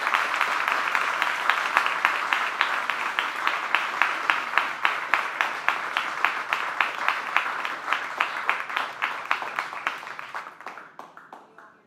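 An audience applauds at the end of a talk on alloy development: a dense, loud round of clapping that settles into a steady rhythm of individual claps, then thins and fades out over roughly twelve seconds.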